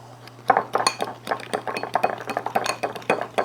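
Brown sugar and ketchup being stirred into a meatloaf mixture in a bowl, with a spoon clinking against the bowl in quick, irregular taps over a steady low hum.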